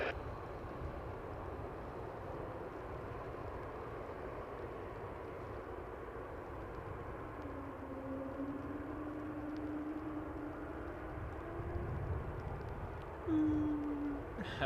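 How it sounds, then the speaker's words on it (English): Airbus A220-300 jet engines at Toronto Pearson Airport, a steady distant roar from the airfield with a faint rising whine near the end, heard alone without talk. "I love the sound of the 220 engines."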